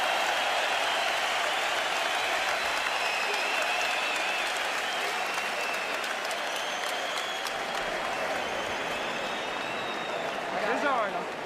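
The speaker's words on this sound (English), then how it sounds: "And the crowd loves it" A boxing crowd cheers and applauds at a fight between Andre Berto and David Estrada, a dense, sustained roar of clapping and shouting that fills the whole stretch, with commentary running under it.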